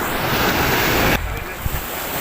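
Strong sea waves surge against a breakwater in Abu Dhabi in bad weather. A loud, broadband wash is mixed with heavy wind buffeting on the microphone, easing abruptly partway through.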